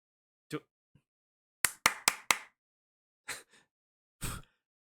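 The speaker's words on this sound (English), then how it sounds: "Why is the clapping so wet?" Sparse, wet-sounding hand claps from clammy hands ring out in an otherwise silent space, a quick run of four close together among scattered single slaps with a soft, smacking quality.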